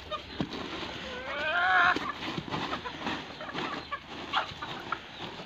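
Several chickens cluck and squawk close by, one rising into a louder drawn-out call, with light rustling and movement around them.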